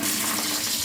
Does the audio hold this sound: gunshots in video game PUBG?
no